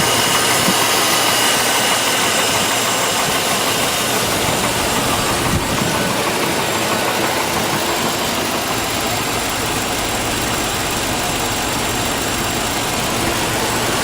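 A Chevy 5.3-liter LS V8 idles loudly and steadily, a close, continuous engine rumble that holds an even level from start to finish with no talking.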